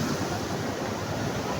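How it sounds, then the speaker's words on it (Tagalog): Large surf waves rolling in at a sandy-free beach spot suited to surfing, a continuous close roar of breaking water with wind noise buffeting the microphone throughout. "Ang lalaking alon."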